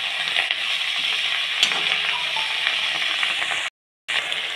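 Spinach and reddish garden leaves hit a hot pan, producing a bright, hissing sizzle that holds steady before cutting out briefly near the end, with no voices.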